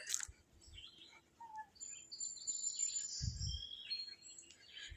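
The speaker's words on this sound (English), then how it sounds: "You can hear all the birds." Faint birdsong in a park with scattered chirps and tweets in a quiet outdoor setting, along with a few soft low thumps.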